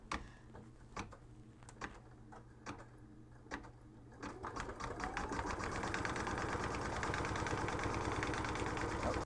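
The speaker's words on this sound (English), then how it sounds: "now it's going to scoot in about a 1/4 inch and sew the seam." Sewing machine stitching a quarter-inch seam on a small quilted mug rug: soft separate ticks at first, then a quick, steady run of rapid needle clatter close by.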